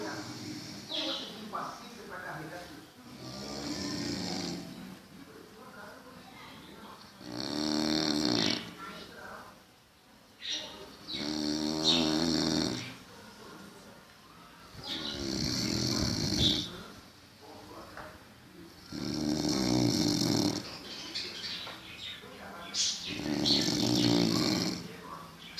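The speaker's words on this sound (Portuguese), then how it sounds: "Vocês viram o caboclo dormindo, ronca igual um porco velho?" A sleeping man in a house snores loudly, in deep rasping, pig-like snorts that repeat in slow rhythmic waves every few seconds over roughly half a minute.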